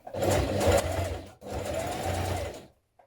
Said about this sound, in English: Now top stitch around your pockets.